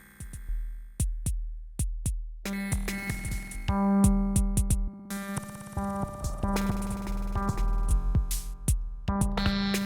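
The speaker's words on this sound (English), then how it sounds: "Sounds like this particular patch has modulation that is derived from the drums." GND-1T synthesizer patch with modulation driven by drums: sharp percussive hits in a rhythmic pattern, then sustained tonal synth layers that shift and pulse with the beat, fairly loud and busy, with no voices.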